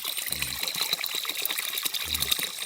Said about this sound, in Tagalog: Tuburan yun guys, malakas.